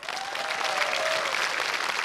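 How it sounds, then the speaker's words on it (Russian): A studio audience at the Russian television quiz show Zvyozdny Chas (Star Hour) bursts into dense, continuous applause that stays loud and even for a couple of seconds. "Аплодисменты!"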